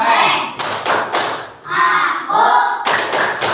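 Children in a classroom clapping out the tepuk anak soleh chant, several sharp rhythmic bursts of claps alternating with voices chanting along.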